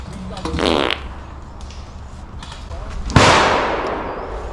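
An airsoft gun fired outdoors during a skirmish: one sharp, close crack with a brief decaying tail, following an earlier muffled burst.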